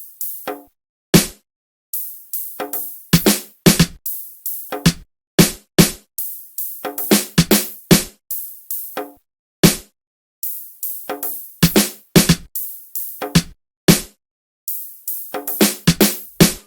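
An amapiano beat in mellow, sleazy style with hard drums: sharp kick and percussive hits in a syncopated, gapped pattern, loud and dry with no voice over it.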